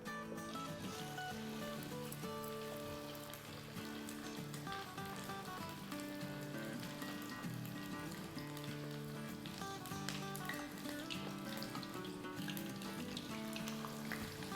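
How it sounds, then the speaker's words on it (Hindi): Chicken pieces dropped into hot oil, frying with a steady sizzle that stays under loud, continuous background music for the whole stretch. "तेल हमारा गरम है, तो अब ये हम डाल देते हैं इसमें।"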